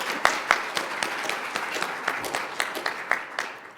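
A worship congregation claps in a short burst of sparse, distinct handclaps, with no talking.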